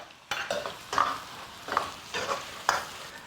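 Aromatics go into a wok for a Sichuan farmhouse pork stir-fry, with a soft, ongoing sizzle and several distinct scraping strokes of the spatula against the pan, close and fairly quiet.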